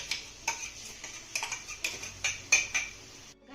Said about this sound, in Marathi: घातलेलं वाटण ना तेलामध्ये चांगलं मिक्स करून घेऊया.